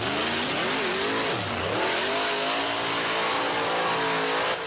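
Dirt Boss mud bogging truck engine revs hard and loud, its pitch dipping briefly mid-burst then climbing and holding at a high roar, with no talk over it.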